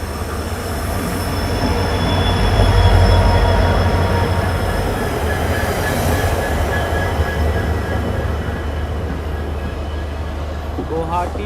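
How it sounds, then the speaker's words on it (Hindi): A passenger train hauled by two EMD locomotives rolls past in Assam with a loud, continuous rumble, wheels clattering on the rails. A brief squeal rises near the end, and faint voices sit under the noise. "पैसेंजर में डबल EMD लगे हुए हैं।"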